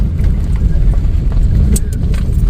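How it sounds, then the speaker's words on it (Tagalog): Large trucks rumble past on a road through a busy farming business area, a loud continuous low roar of heavy engines and tyres close by. "Tignan nyo guys kung gaano kalalaki yung mga truck na dumadaan dito."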